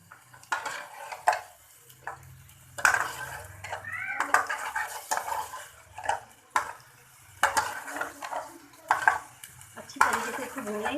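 Chicken with ginger garlic paste frying in oil in a pan, a utensil scraping and clinking against the metal in repeated strokes over a soft sizzle, with faint background sounds.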